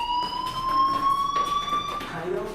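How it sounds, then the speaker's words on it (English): A school fire alarm rings in the video game Life Is Strange, a continuous electronic tone sounding loudly and unbroken throughout. "do you hear that fire alarm?"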